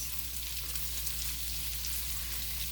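Vegetables frying in a pan for a Chinese dish, a steady dense hiss of sizzling oil throughout, close and continuous with no talking.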